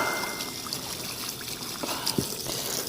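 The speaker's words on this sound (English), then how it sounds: "Rinse it out from the inside out, outside in." Water from a gentle, low-pressure flow trickles and streams steadily through an S&B air filter being rinsed inside out, a continuous close wash with a few small knocks and splashes.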